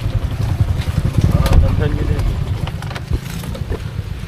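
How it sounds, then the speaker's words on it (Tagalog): Rumbling motorcycle engines, continuous and fairly loud, with voices and crowd noise mixed in the background. "Sobrang daming motor oh."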